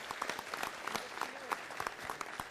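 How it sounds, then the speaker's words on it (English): Council chamber audience gives a round of applause at a city council meeting, a moderate, steady spatter of clapping with a few voices mixed in, heard at some distance. "Let's give them all a round of applause."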